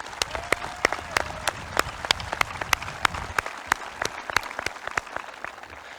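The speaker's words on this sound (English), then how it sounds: "Let's give them a round of applause." Applause at the Cary-Grove High School Class of 2022 graduation ceremony, a crowd clapping steadily with sharp individual claps standing out throughout, moderately close and without talk.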